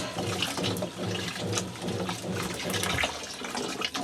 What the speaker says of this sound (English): But then you just rinse it with the warm water.